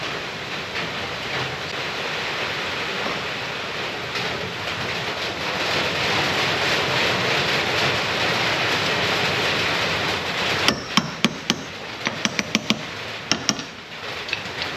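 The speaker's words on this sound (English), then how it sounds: "just giving that a bit of an encouragement with the hammer in the rain and the wind." Hammer blows on drive flanges fitted to a car wheel, struck outdoors in rain and wind; after steady windy rain noise, a quick cluster of sharp metallic knocks rings out close and loud, with no talking.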